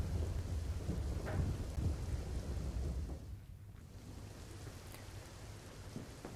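Heavy monsoon rain pours steadily in Mandvi, Kutch, with a dense hiss and a low rolling rumble of thunder that fades midway before the downpour carries on alone.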